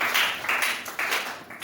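Short burst of applause from a church congregation acclaiming the king of kings, dense rhythmic clapping close by that swells and dips in quick waves with no talk.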